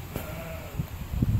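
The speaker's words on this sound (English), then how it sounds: "I'm being joined by some little sheepy sheep." Small sheep bleat close by in an outdoor riverside setting, with a couple of short soft calls rising over a low rumble of background noise.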